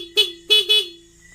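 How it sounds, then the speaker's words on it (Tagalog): A Suzuki Raider 150 fuel-injected motorcycle horn sounds in three short, loud, close blasts, the first set apart and the last two quickly paired, with quiet between them. "Okay, gumagana yung horn natin guys."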